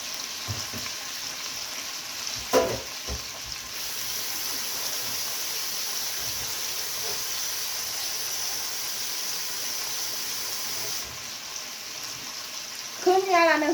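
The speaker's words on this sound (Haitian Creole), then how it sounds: "Moi mettre dans l'huile là et puis moi mettre poisson en filet." Fish fillets with onions frying in oil in a pot, a steady close sizzle and hiss running throughout, with a few clatters near the start and brief voice sounds at the end.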